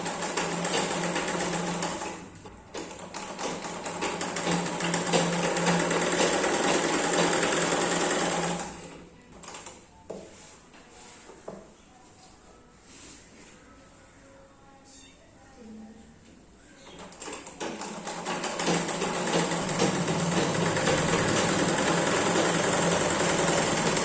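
A sewing machine stitching a skirt waistband, a steady close buzzing whir that runs for several seconds, pauses briefly, then resumes, with someone speaking between runs.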